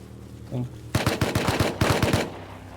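Automatic gunfire in the survival game Rust, two close, loud bursts of rapid shots separated by a short pause, following a faint earlier sound.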